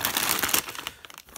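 Brief crinkling and crumpling of a plastic bag being cut open with scissors, sharp rustles that taper off over about a second, close by.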